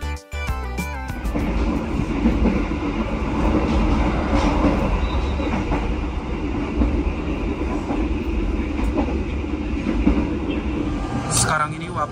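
A passenger train rolls steadily along the rails in Indonesia, heard from on board, a continuous loud rumble with clattering wheels and carriage noise throughout.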